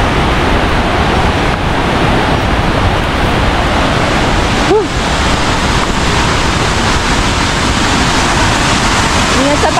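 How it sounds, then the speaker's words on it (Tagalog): Mangta Falls in Bakun, Benguet pours in a loud, steady roar of rushing water that fills the scene close by, with voices briefly heard over the constant spray. "Mangta Falls."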